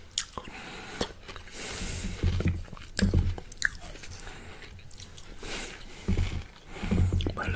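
Close, intimate eating of Oreo shaved ice bingsu, with repeated wet bites, squishy chewing and crisp crunches of cookie and ice, each sound soft and separate over a quiet background.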